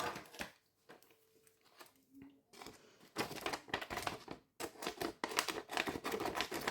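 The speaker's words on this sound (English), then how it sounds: "So I'm just going to cut that out." A circle traced with an acrylic paint marker is cut out, with close, soft scissor snips and crinkling of the material in irregular bursts, quiet at first and then busier and louder.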